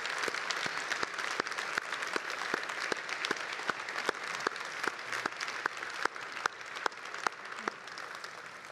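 A conference audience applauds two speakers at the close of a World War II history event, sustained even clapping from a sizable crowd with crisp individual claps, steady throughout and fairly distant.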